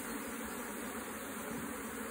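A honeybee swarm at an open hive with honey supers, buzzing in a steady, dense drone that stays constant and fairly close throughout, with no voices.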